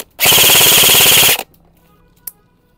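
Airsoft gun firing on full auto, a loud rapid burst of about a second of tightly spaced shots, then silence with a faint click shortly after.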